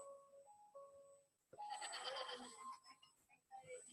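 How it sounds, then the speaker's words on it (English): A timer alarm goes off in a quiet room, a loud burst of electronic beeping tones after a few softer tonal notes, continuing in uneven pulses. "That's my timer going, I have 10 minutes left."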